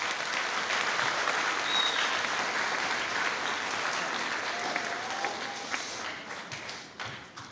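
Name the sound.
audience applause for school intermediate band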